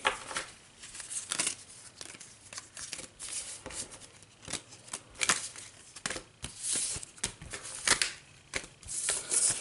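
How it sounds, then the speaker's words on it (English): Playing cards for the board game Legendary: Aliens being shuffled by hand, a quiet series of crisp riffling and slapping bursts in irregular clusters, close and alone. "Draw 3 cards. Shuffle a little bit."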